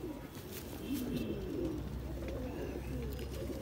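Grey Rampuri pigeon cooing softly in repeated low, throaty bursts, faint and close amid a noisy loft background.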